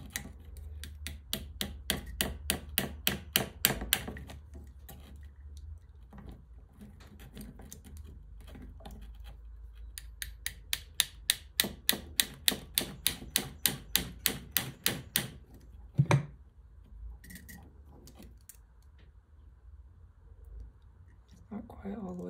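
Small hammer taps strike the spring of a Badeco Swiss duplex spring hammer dental handpiece in quick, even metallic clicks, coming in two long bursts separated by a pause, with a few scattered taps later.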